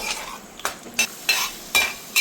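Cashews and raisins frying in ghee, stirred in a pan; a steady low sizzle with four sharp scraping stirs spaced roughly half a second apart, close and clear.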